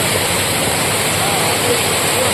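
Damanacharla waterfalls roaring as a steady, loud, broadband rush of falling water that fills the scene without pause.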